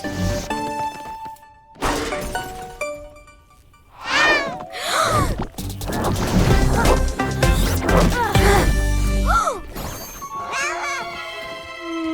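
Cartoon cat meows appear among bright sound effects, a few short rising and falling mews between crashes, dings and shattering noises, with voices talking in between.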